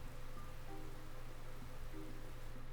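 Steady, soft drizzle hisses evenly throughout in the video game Sapiens, a continuous wash of rain with a low hum beneath and no voices.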